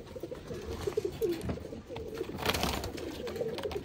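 An old racing pigeon coos in a series of soft, throaty, repeated calls at close range, with faint shuffling and rustling of other birds around it.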